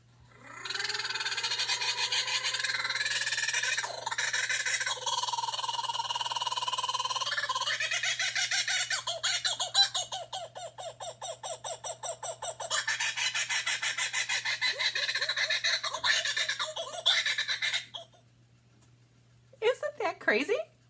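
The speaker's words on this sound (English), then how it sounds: "That was a kookaburra laughing." A played recording of a kookaburra's laughing call, a loud, raucous, rapidly repeating cackle that runs on for many seconds, rising and chattering in rhythmic bursts before a brief pause and a short final outburst.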